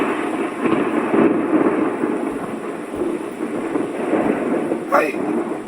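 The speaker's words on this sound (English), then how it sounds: "Can I get some thunder, please?" Thunder sound effect rolling in a steady low rumble with hissing rain-like texture for several seconds, fairly loud and continuous, with a brief whistling sweep near the end and no speech over it.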